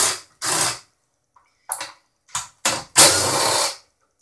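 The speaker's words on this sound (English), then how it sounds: "We get Mr. Trusty DeWalt here. I prefer a little small impacts for this kind of job." A small DeWalt impact driver backs screws out of a Yamaha LS9 mixing console in about six sharp, close bursts of rattling whir separated by silent pauses.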